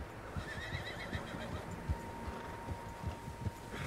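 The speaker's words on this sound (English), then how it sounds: "Horses, quite a few of them." Several horses whinny and neigh in the Battlefront video game while hooves clip-clop in a quick, uneven rhythm nearby, with the calls rising above a continuous outdoor background.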